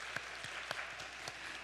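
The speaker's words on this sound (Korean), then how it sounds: "우리 할렐루야 박수 한번 칩시다." Short burst of congregational applause during a Friday church worship service, moderately quiet, with a few sharper claps standing out over the steady patter.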